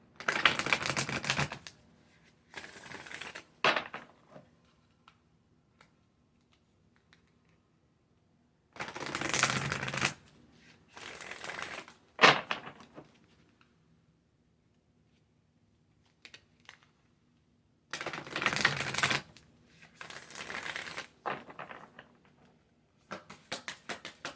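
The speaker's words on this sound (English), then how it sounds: "I'm going to pull some oracle cards, see what advice I can get for you." A deck of oracle cards is shuffled close by in several brisk riffling bursts, each a second or two long, separated by quiet pauses and a few soft taps.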